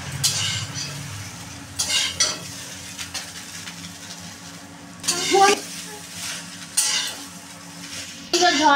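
Chow mein noodles with fried potato, turmeric and salt are tossed in a pan, giving a soft sizzle under bursts of stirring, scraping utensil clatter, with a voice talking intermittently.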